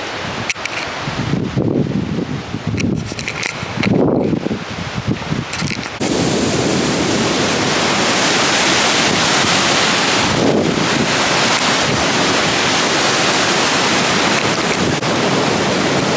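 Waterfall crashing down beside a hiking trail, a loud, steady broadband roar that fills the last ten seconds, preceded by gusty, uneven wind-like rushing with brief surges near the start.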